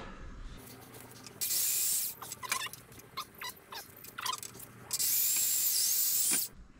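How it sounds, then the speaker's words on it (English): A power drill whines in two short, loud bursts, with scraping and crunching of the bit boring through wood in between. "this drill bit is working better than the previous one"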